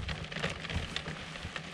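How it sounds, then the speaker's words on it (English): Heavy rain drums steadily on a truck camper roof, a dense, continuous patter close by with no voices. "And it is just raining like crazy out there."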